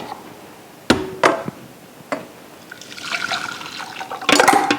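Sauce for eggs with pine nut sauce poured back into a cooking pot in a home kitchen, a few sharp knocks followed by a splashing, trickling pour that swells louder near the end, with no talking.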